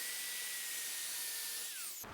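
A circular saw with its blade set to 1.5 inches cuts through a 2x8 board for a garden arbor trellis, giving a loud, close, sustained whine that drops in pitch and then stops as the cut ends.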